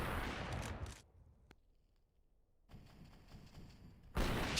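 Counter-Strike gunfire bursts loud, drops to near silence for about a second and a half, then returns as a steadier rattle of shots and ends on another loud burst.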